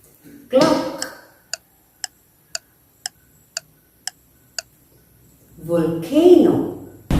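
A sequence of eight crisp, evenly spaced clock ticks, clear against near silence, imitating a ticking clock for a grade 2 lesson, with a voice speaking just before and after.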